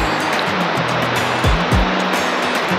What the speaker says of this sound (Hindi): पानी का बहाव कितना तेज है